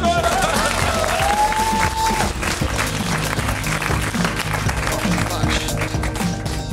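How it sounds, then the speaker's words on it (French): A studio audience at a French talk show applauds and cheers loudly, while voices and some background music mix into the dense crowd noise. "Applaudissements!"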